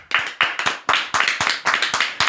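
A single person claps by striking fingers against the palm, giving about nine sharp, evenly spaced claps, close and loud, with no talk over them.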